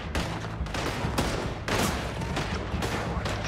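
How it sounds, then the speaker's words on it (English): Rapid gunfire in Red Dead Redemption 2 rings out in close, loud bursts of shots aimed at dynamite during a bank robbery, several volleys over a few seconds with no talking. "Shoot the dynamite."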